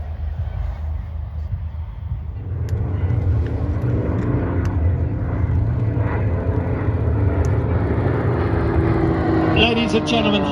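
Yak 50 and Extra aerobatic aircraft performing high-powered aerobatics at an airshow, a loud sustained engine drone that swells and shifts in pitch, with a crowd and announcer voice faintly underneath.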